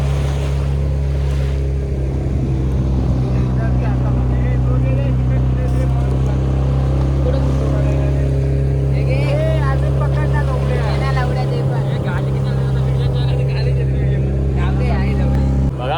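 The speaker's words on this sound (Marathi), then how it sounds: "हे बघा आता बोट चाललेली." A fishing boat's engine drones steadily while motoring at sea, a loud constant low hum with wind and water noise over it, and people talking throughout.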